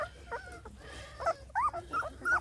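Two-week-old Black and Tan Coonhound puppies make soft whimpers and small yips in quick, uneven bursts, heard close and faint.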